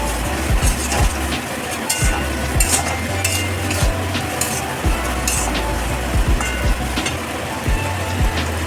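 A spice masala of ginger and garlic sizzles steadily in oil in a kadai while a spatula scrapes and stirs it in repeated strokes, loud and close.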